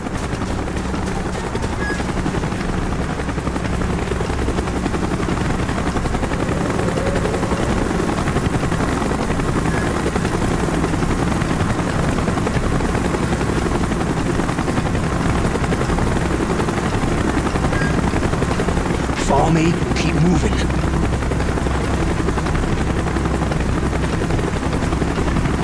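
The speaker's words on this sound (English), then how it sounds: "Chopper's inbound. Move it." A helicopter in Call of Duty: Black Ops drones continuously, loud and close, with its steady rotor roar filling the scene and a brief sharp burst partway through.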